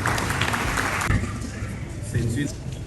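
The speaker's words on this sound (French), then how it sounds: "On applaudit s'il vous plaît." Applause from an audience at a university diploma ceremony at UNAF: steady, dense clapping filling the whole stretch, mixed with a voice speaking in French over it.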